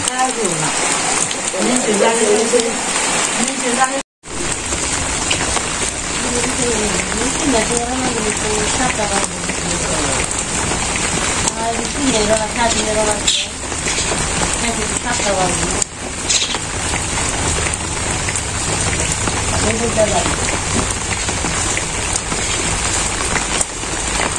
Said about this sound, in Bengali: খালি বৃষ্টি বৃষ্টি কবে যাইব এই বৃষ্টি জোরে নেমে 2-3 দিন থাক